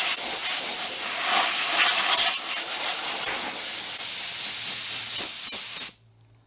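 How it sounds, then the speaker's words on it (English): A strong, steady blast of compressed air from an air compressor nozzle hisses loudly and continuously while blowing water out of a car's corners and from under its mirrors, then stops abruptly near the end. "for those of you that have an air compressor, you can use the air to blow out"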